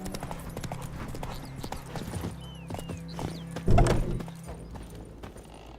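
Roach the horse in The Witcher 3 clip-clops along at a steady pace in a game world, hoofbeats continuous beneath ambient hum, with a louder thump near the end and a short spoken line over it.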